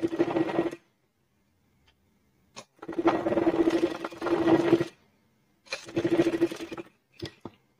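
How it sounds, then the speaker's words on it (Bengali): A sewing machine running straight stitches on fabric for children's underwear, with several short bursts of close, rapid mechanical whirring separated by silent pauses and a few clicks. "এরকম ভাবে ধরে আমরা সিধা সেলাই দিয়ে দিব।"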